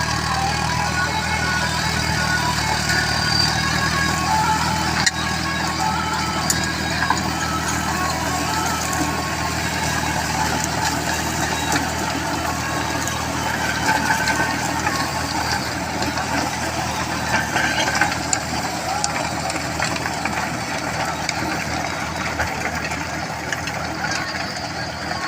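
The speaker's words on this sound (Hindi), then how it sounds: "स्टैंडर्ड पीटीओ में चल रहा है। 1400 आरपीएम पर चला रहे हैं ट्रैक्टर को।" A John Deere 5050D tractor in first gear drives a rotavator through standard PTO at 1400 RPM, giving a steady, rough diesel drone with a heavy low rumble that runs unbroken and close throughout.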